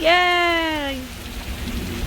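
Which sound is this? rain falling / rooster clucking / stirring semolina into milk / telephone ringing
rain falling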